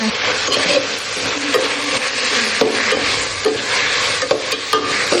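Vegetable noodles tossed and stir-fried in a pan with soy sauce produce a loud, close, continuous sizzle with rhythmic scraping and stirring strokes throughout.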